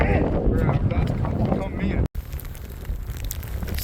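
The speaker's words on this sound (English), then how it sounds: "it is just nasty, windy, rainy" Strong wind with rain buffets and roars against the microphone in the Alaska backcountry, with a brief cutout midway, followed by a steadier gusty rush.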